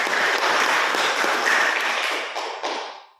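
A classroom of students applauds a classmate. Dense, close clapping holds steady for a few seconds, then thins out and fades away.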